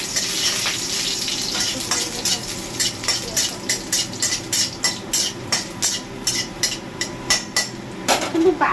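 Potatoes fry in a pan with a steady sizzle, punctuated by a regular series of sharp metallic scrapes and taps as a utensil stirs them, loud and close with no talking.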